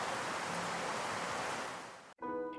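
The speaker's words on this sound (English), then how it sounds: "Then it started raining" Steady rain falls in Da Lat, Vietnam, a dense even hiss that fills the scene for about two seconds before cutting out abruptly, replaced by a brief different tonal sound at the end.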